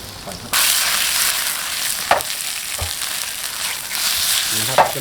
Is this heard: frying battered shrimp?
yes